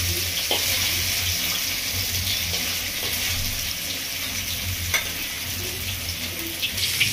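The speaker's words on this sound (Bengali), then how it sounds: "মাছটা ভালো করে ভেজে নেবো লাল লাল করে" Katla fish frying in a pan for a Bengali village-style doi katla, a loud continuous hissing sizzle up close with a few faint spatula taps scattered through, no one speaking.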